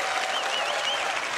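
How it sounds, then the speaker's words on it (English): An audience at CitizenCon, the Star Citizen convention, claps in steady, dense applause, loud and close, with faint cheering or whistles mixed in. "please give a round of applause for Leah, please"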